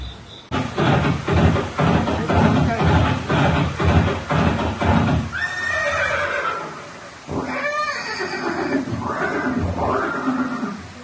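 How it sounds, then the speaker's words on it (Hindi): A horse neighs and whinnies in a Haldighati museum exhibit depicting Maharana Pratap's horse Chetak, starting after a dense stretch of loud rhythmic sound and ringing out in several loud calls over steady background noise. "ये दृश्य महाराणा प्रताप और सुविख्यात स्वामी भक्त घोड़े चेतक के अंतिम मिलन का है"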